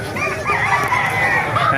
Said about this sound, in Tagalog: Papakita ko sa inyo mga ganda manok dito sa Kalupit mga kamas. Ang ganda ng mga manok.